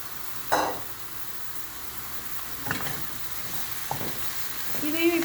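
About 500 grams of washed, cut mushrooms sizzle in a pan for a pepper roast, with a soft steady fry and a few brief stirring scrapes and clanks close by.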